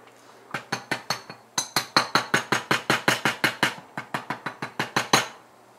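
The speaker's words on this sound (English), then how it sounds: "One of the things I did very carefully with the socket is just tap it near the edges around." A socket is tapped with a hammer to seat a pin on a Procon pump rebuild, a fast, even run of about twenty-five sharp metallic taps, close and fairly loud, with a brief pause midway.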